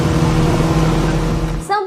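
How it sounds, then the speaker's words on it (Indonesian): A speedboat engine drones loudly and steadily on the water, a continuous low rumble with a change near the end as the pitch shifts. "Deru suara mesin speedboat terdengar cukup kencang."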